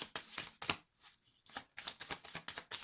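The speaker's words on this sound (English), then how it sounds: "Okay, last shuffle." A deck of tarot cards is shuffled in quick repeated riffles and taps, soft and close, in bursts separated by a brief pause.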